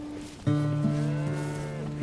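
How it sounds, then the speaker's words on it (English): Cattle of the rare Canadian lineback and red poll breeds give one long, loud, steady moo close by, starting after a brief quiet moment and holding alone to the end. "Paul and Marnie raise endangered species of cattle along with their pigs"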